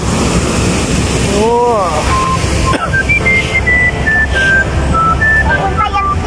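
Cold spring water rushes out at a spring resort in Mahayag, Zamboanga del Sur: a loud, steady roar of flowing water mixed with wind buffeting, and thin whistling tones over it. People talk excitedly nearby.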